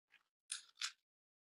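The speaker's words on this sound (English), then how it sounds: "just snip along there so that the paper will fit neatly into the round corners" Two quick crisp snips of scissors cutting through baking paper, preceded by a faint small rustle, in an otherwise quiet space.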